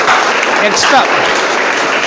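Brief scattered clapping in a classroom during a student debate on online versus offline shopping, heard faintly beneath a speaking voice for a couple of seconds.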